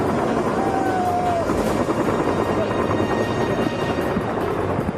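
Helicopter airlifting stones for restoration of the Bukhansanseong fortress wall in Seoul: a loud, continuous rotor roar and thumping close by, filling the whole stretch without pause.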